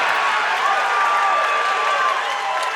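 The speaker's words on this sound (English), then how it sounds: "And the crowd very supportive of Pye." A dense crowd cheers and applauds at the Unified 51 MMA prelims during the Mark Mosure vs Clayton Pye fight, a continuous roar of clapping and shouting held at a high, steady level.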